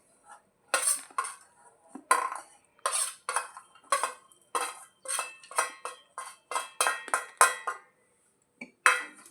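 A spoon scrapes and clinks against a steel container while mixed nuts powder is stirred, making a steady series of bright metallic strokes roughly every half second, close and fairly quiet.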